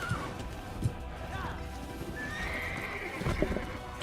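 Horse clip-clop and a neigh in a video game set among Templars, with hoofbeats and whinnying over a busy mix of game effects, fairly close and moderately loud, while a person talks.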